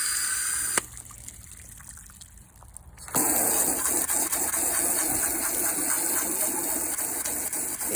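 A warm-water jet from a hose attachment sprays onto a western felt saddle pad, rinsing out shampoo. The water noise starts in short bursts, drops off, then returns as a steady, loud hiss and gush.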